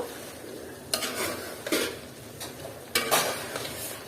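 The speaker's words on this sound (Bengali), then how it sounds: "আর এটাকে আমি আবারও একটু নেড়ে চেড়ে দিচ্ছি" Tuna fish heads are stirred in a cooking pot for a mung dal and vegetable dish, with a spoon scraping and clinking against the pot in several distinct strokes over a steady background sizzle, close and fairly loud, with no talking.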